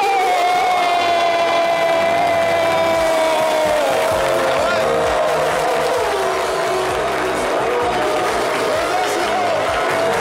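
A crowd cheers and applauds to welcome the music duo on a live show, the roar steady and loud throughout with music and whoops mixed in.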